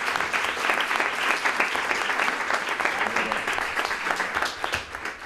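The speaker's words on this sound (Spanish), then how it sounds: "Aplauso también para Pablo" An audience at a Book Day awards ceremony in San Roque claps in a sustained burst of dense applause, loud and even, tapering slightly at the end.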